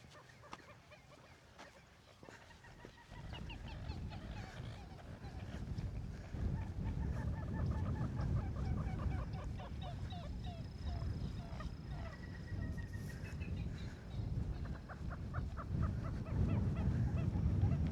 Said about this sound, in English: my microphone is picking up these bird calls because they're simply amazing.